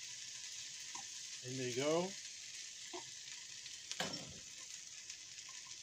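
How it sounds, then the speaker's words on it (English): Sardines hit a hot pan and settle into a steady, bright sizzle that continues throughout, with a clatter of a utensil stirring midway and someone speaking briefly over the frying. "now time to add my sardines"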